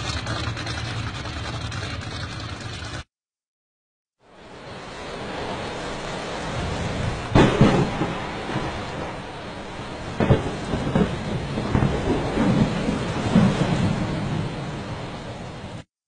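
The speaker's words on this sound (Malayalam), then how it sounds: "മഴമേഘങ്ങൾ തിമർത്തു പെയ്യുന്നു, ഇടിമുഴക്കങ്ങൾ ഹൃദയങ്ങളെ അസ്വസ്ഥമാക്കുന്നു." Heavy monsoon rain pours steadily in a flood-hit region, with loud thunder cracks and rolling rumbles breaking through the dense hiss after a brief silent gap.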